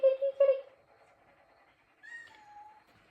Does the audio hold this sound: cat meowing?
yes